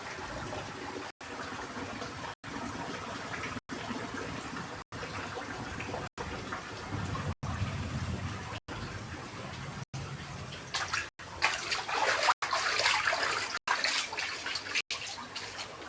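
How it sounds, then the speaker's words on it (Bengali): Floodwater that has entered a house, a steady rushing, splashing wash of water running throughout and swelling louder toward the end. "দেখো এত জল ঢুকেছে ঘরের ভিতরে, এত জল।"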